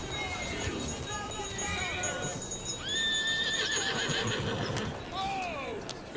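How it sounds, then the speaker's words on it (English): A horse in the video game Assassin's Creed Syndicate neighs loudly twice amid busy background noise, clopping hooves and people talking, with other whinnies sounding faintly nearby. "Who's a good horse? You are."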